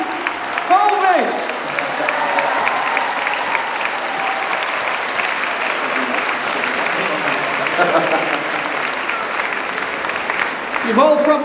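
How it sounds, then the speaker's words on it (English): An audience at the Your Horse Live equestrian show claps loudly and continuously to welcome a horse named Elvis, with brief speech at the start and the end of the clip. "Ladies and gentlemen, big round of applause."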